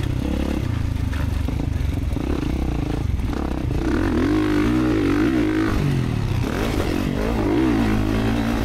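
A dirt bike races around the Eugene MX motocross park near Junction City, its engine revving up and down in close, loud surges with clattering and scraping from the track.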